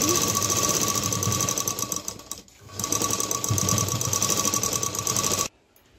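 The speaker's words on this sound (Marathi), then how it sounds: "तर आता दोन्ही मी डबल शिलाई करून घेते." Sewing machine double-stitching a blouse, loud and near with a continuous whirring drone, a brief dip midway, then running again before stopping abruptly.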